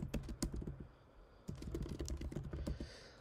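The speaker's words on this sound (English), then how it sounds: "now we're just going to type out a random phrase" A computer keyboard clatters as a phrase is typed, with close, quick bursts of key clicks separated by a short pause, and no talking.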